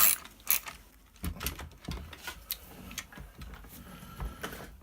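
A chainsaw chain tensioner screw being tightened on the bar, giving a string of small mechanical clicks and ratcheting ticks, close and fairly quiet, with no talking.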